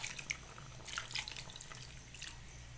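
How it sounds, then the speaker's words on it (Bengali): Water is poured into chicken curry during cooking, a light splashing, dripping trickle in short bursts over a low steady hum. "এবার জল দেওয়া হচ্ছে"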